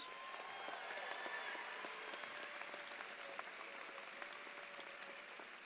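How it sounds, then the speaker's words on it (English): At a high school graduation ceremony, a large audience applauds in a sustained, even roar of clapping, heard from some distance, with occasional sharper individual claps standing out. "Can we give them another huge shout out and round of applause?"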